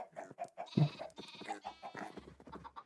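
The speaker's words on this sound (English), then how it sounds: "We'll leave the baby sheep." Sheep bleating in a survival video game, several short quavering bleats in quick succession, close and clear with no talk over them.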